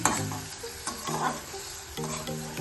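Food sizzles and crackles in a pan while a utensil stirs and scrapes against it, with a low steady hum underneath.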